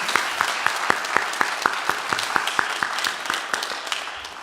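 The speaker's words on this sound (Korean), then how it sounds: "네, 박수 한번 하겠습니다." Church congregation clapping together during a Sunday service, a steady rhythmic beat of claps in unison, moderately loud in a reverberant room, continuing evenly before slowly fading.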